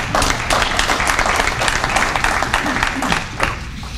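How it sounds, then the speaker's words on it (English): A Bowie Chamber of Commerce audience claps in a dense, moderately loud round of applause, many hands overlapping close by, with some crowd murmur underneath, tapering a little toward the end. "So give yourselves a round of applause."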